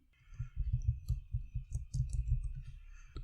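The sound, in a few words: computer mouse clicks while resetting Windows 10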